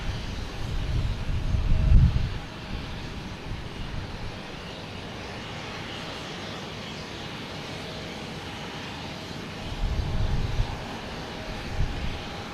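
A Porter Airlines plane taxiing at Boston Logan Airport, its engines a steady droning whine at moderate distance, with wind buffeting the microphone in low gusts.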